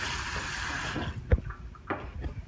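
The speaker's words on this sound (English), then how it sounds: "you just run warm water through it and toss it" Warm tap water runs over cooked pasta, a brief hiss of flowing water that cuts off after about a second, followed by a few faint knocks and clatters.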